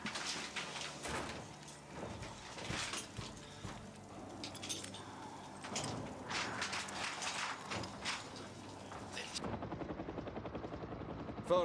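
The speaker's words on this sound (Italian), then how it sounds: "Forza, saliamo sull'elicottero." A helicopter's rotor chops and whines through a dense, mechanical roar, with clanks and metallic rattles layered over it, loud and continuous until the noise suddenly thins near the end.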